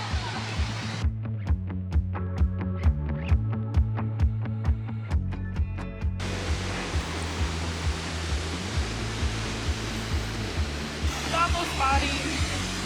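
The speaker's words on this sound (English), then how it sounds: "You can see the waterfall right there." Horsetail Falls, a waterfall in Oregon, rushes as a steady broadband wash close by beside a short walk from a parking lot, with musical tones and faint activity layered over it early on.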